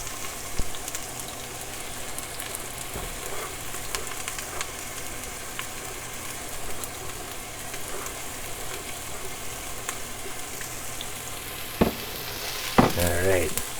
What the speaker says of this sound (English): Get them fried up, nice and sauteed.